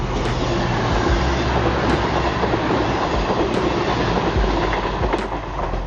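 A train runs along the coastal railway line between Paignton and Dawlish, a loud, close, continuous rumble with steady wheel clatter and periodic sharp clicks, heard alone without any talking.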